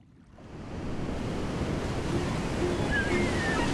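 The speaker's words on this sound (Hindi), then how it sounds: "मुझे समुद्री लहरों की आवाज बेहद पसंद है।" Ocean surf rolls in steadily, a broad continuous wash of breaking waves with some wind noise, rising from quiet to a full, sustained roar with no voices.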